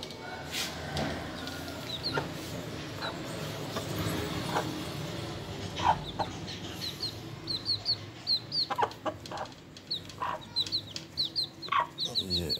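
Aseel hen with a brood of newly hatched chicks, clucking in low, soft bursts close by while the chicks cheep in high, thin peeps that grow more frequent toward the end; someone speaks faintly at times.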